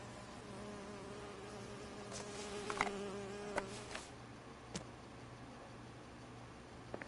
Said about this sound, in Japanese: めちゃくちゃ今左側からハエの音聞こえたんやけど。